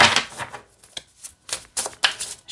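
Tarot cards riffled and shuffled by hand, crisp papery flutters in short bursts with brief pauses between, close and fairly quiet, no talking.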